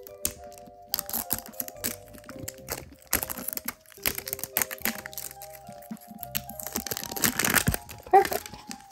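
Sharp crinkling and crackling of plastic gacha blind bag packaging being bitten open up close, in short bursts, with a few louder snaps near the end.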